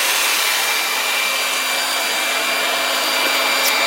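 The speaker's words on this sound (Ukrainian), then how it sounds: "Так, вмикаємо вентилятор." A loud, steady rushing whir of an electric blower fan on a wood-gas generator running continuously at full power, close by, with no pauses or voices.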